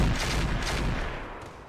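Mech weapons fire at a Zeus in the RogueTech battle game, a dense rumbling barrage of overlapping gunfire and explosions that stays loud and continuous before easing slightly at the end.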